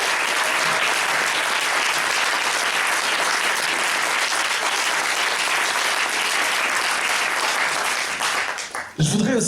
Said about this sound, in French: je vous propose d'applaudir notre candidate et notre candidat